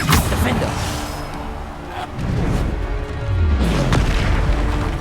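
Bombarda spell explosions in Hogwarts Legacy, two deep booming blasts with rolling low rumble, loud and close amid other game effects.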